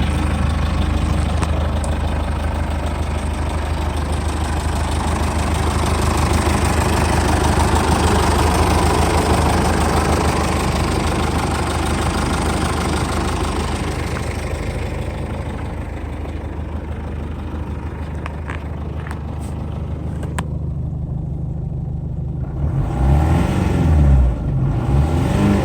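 The 2.8-litre CRD diesel in a 2006 Jeep Liberty idles with a steady, low clatter and rumble close by, shifting slightly in pitch toward the end.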